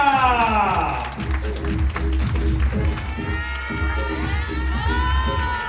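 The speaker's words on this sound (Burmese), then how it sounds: "Ready လက်ခုပ်တန်းလေးနဲ့ကြိုဆိုပေးပါခင်ဗျာ" A crowd applauds and cheers to welcome someone at an awards event, a steady wash of clapping and voices with shouts and whistles over a low hum, continuous and fairly loud throughout.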